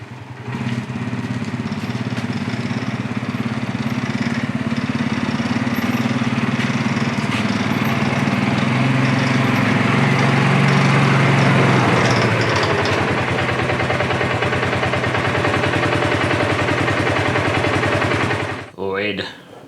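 Polaris ACE side-by-side running with a harsh, continuous mechanical grinding from the driveline near the prop shaft, loud and steady for most of the stretch before cutting off near the end.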